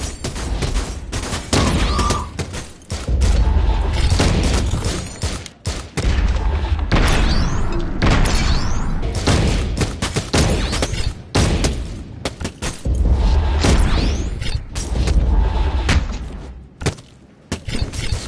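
Dense gunfire in the VR game Sairento, fought on PSVR with a PS4 Pro: near-continuous bursts of loud shots and thumping impacts for most of the stretch, broken by brief gaps, with little talk.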